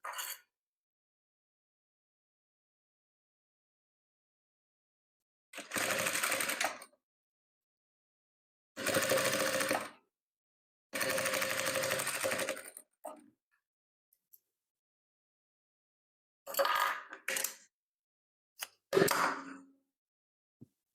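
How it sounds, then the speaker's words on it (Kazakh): A sewing machine stitches a white fabric strip for patchwork quilting in short separate runs: several loud whirring bursts of one to two seconds each, with silent pauses between them and no talk. "Енді былай қарай 3 сантиметрлік ақ матамызды тігеміз."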